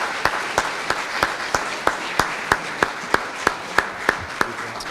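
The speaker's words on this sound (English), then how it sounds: "Please give the entire group a round of applause and welcome for questions." Room audience applauding a panel group, steady crowd clapping with a regular, sharp rhythmic clap cutting through at about three per second, fairly loud and close, with no speech.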